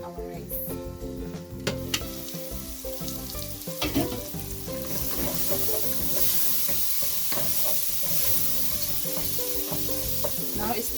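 Tomatoes frying in a pot for beef pilau, a steady close sizzle and hiss with the scrape and clatter of a spoon stirring now and then, growing fuller and louder toward the end.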